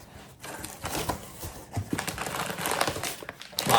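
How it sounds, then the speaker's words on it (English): Packing paper crinkles and rustles continuously inside a freshly opened ElfQuest roleplaying game box, a close, busy crackle that swells and thickens toward the end. "Lots of packing paper in here."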